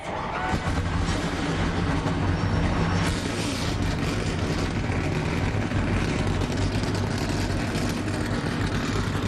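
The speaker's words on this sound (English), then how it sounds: "Engines are fired up." ARCA race car engines roaring together at Michigan International Speedway, a loud, dense, continuous rumble and drone held steady throughout with no talk over it.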